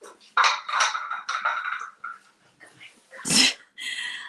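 A dog busts through onto the wrong side of a backyard fence, giving short breathy snuffles and bursts of panting or sniffing in a quick uneven run, close by with no talk.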